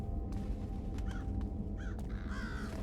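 A few short crow caws in the video game Thief ring out over a low, constant rumbling background, spaced irregularly and fairly faint.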